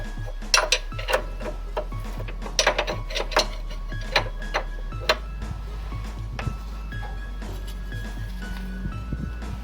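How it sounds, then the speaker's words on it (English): Mechanical clicking and ratcheting while the last bolt is tightened on a Type 4 engine, a rapid series of close, crisp ticks in bursts over a steady low hum, with no talk. "Tightening the last bolt."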